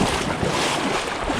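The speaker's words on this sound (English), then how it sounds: "This current is so strong." Strong river current rushing steadily around a wading angler, a dense broadband wash with wind buffeting the microphone, continuous and close throughout.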